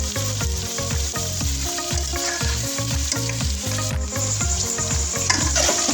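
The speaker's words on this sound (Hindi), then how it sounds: "आलू बैंगन फ्राई कर रही हूँ" Potatoes and eggplant fry with onions in a pan for an aloo baingan dish, giving a steady, close sizzle that runs the whole time over a rhythmic, beat-like backdrop.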